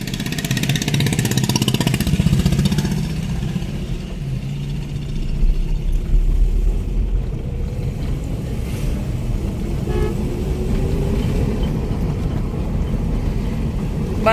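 A car is driven along a village road in rural Punjab, its engine a steady, close drone that persists throughout, with a horn tooting near the start and no talk over it.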